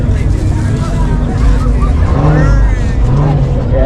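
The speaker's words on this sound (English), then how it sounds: "Yeah, that was a Hellcat." A Dodge Hellcat roars past at a street car meet in Milwaukee, a loud, sustained engine rumble that swells and shifts pitch as it passes close by.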